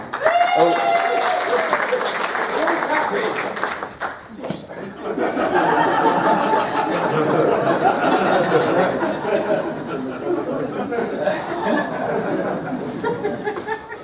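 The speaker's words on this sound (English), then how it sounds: "You deserve a round of applause." A crowd at a UK Games Expo roleplaying game show claps for over ten seconds, the applause mixed with laughter, chatter and voices throughout.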